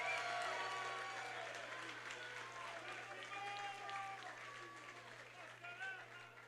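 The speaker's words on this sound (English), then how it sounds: "how about a round of applause for these two great fighters?" Crowd applause and cheering for two kickboxers after a five-round bout, a broad steady roar that slowly fades over several seconds with scattered voices.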